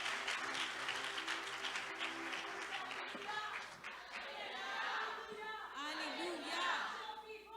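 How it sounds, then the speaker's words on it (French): Applause from a church congregation in Montreal, steady crowd clapping with voices and cheers mixed in, continuing throughout with a speaker's voice over it. "Donnez une bonne main d'acclamation"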